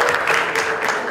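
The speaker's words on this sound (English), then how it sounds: "Can we have a louder round of applause" An audience at a magazine cover launch event applauds: dense, steady clapping from a crowd, loud and continuous throughout, with no break.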